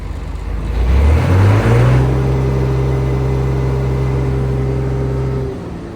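A John Deere 955 combine harvester's large diesel engine revs up, its pitch climbing, then holds a steady loud roar before easing off near the end.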